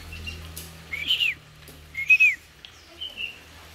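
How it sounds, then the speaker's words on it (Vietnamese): Chinese hwamei songbird in a cage, giving a few clear rising and falling whistled phrases, close and alone over a faint low hum. "Quế lâm này nổ kinh lắm các bác"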